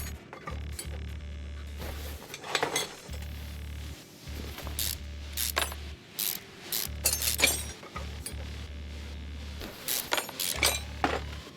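Ratchet removing wheel hub bolts in Car Mechanic Simulator 2021: repeated bursts of quick mechanical clicking, separated by short pauses and occasional metallic clinks, at a moderate level.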